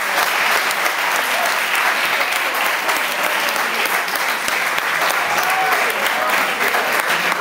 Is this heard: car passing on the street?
no